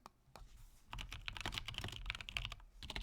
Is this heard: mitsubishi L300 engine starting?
no